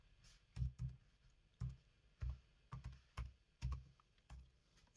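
Typing on a computer keyboard, about ten distinct key taps in an irregular rhythm, close and fairly quiet, with no voices.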